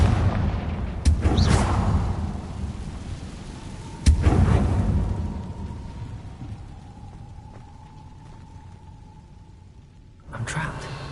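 Confringo fire spells explode in the Hogwarts Legacy video game: loud booming blasts, one near the start and a sharp one a few seconds later, each rolling into a rumbling tail, then another burst at the end.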